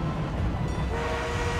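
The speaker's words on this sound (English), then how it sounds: "We are being reinforced with an armored train" Armored train in the World War I shooter Battlefield 1, a steady rumbling rail drone with faint tonal hints, moderately distant and continuous for under two seconds with no talk.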